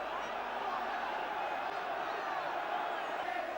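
A large football crowd at a Southend v Liverpool match in the 1978/79 season, a steady roaring swell of cheering heard from a distance as a continuous wash of noise.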